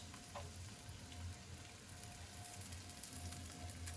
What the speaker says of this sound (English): Now we're going to add our cabbage and or our Brussels sprout.